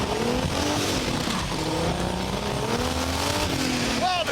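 A 2015 Subaru Legacy accelerating hard in a drag race against project cars, engine note rising and shifting under wind and tire noise, close and loud, with a brief tire squeal near the end and voices talking over it.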